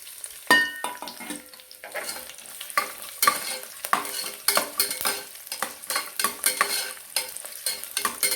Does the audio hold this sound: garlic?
yes